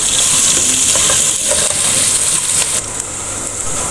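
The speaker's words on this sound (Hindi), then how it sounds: "प्याज जब तेल में गिरता है ना तो आवाज़ ऐसी आती है" Finely chopped onion drops into hot oil for a pumpkin sabzi and sizzles loudly and continuously up close, a dense hissing fry that eases slightly toward the end.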